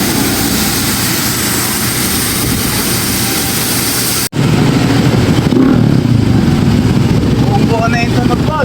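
A Yamaha RS200 motorcycle fitted with an Akrapovic exhaust pipe revs loudly and steadily nearby, a dense engine roar that briefly cuts out and then resumes, with voices talking over it.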